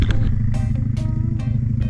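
Quad bikes and motorbikes circling a parked car on open moorland, a steady loud low engine drone throughout with a few brief higher revving swells as machines pass close by.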